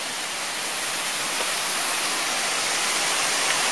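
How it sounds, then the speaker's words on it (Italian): Steady roar of a waterfall at an old mill near Veio, a continuous broadband rush of falling water with no breaks, fairly loud and close, with no voices over it. "Questa è la cascata che serviva per far ruotare le ruote della macchina"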